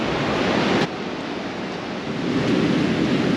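Ocean waves at the Bay of Biscay beach in Ribadesella, northern Spain, roll in as a steady broadband wash of surf that surges loudly at first, eases briefly, then swells again toward the end, with no voices.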